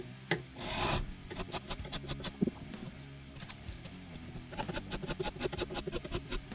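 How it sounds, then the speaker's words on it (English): A crowning file shapes and rounds guitar frets that were sanded down earlier, giving repeated short rasping strokes in an uneven rhythm, close and moderately loud, with no talking. "you just kind of use your crowning file and shape them, right?"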